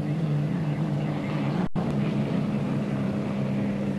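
A continuous loud engine roar of the U-2 racing hydroplane at the 1980 Seafair race, with a steady low hum and a brief dropout midway, heard over a broadcast feed.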